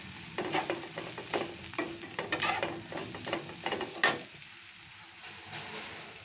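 Sautéed tapioca (maravalli kizhangu) being stirred in a pan, a close series of quick scraping and clattering strokes over a soft sizzle, the strokes irregular and then settling into quieter frying.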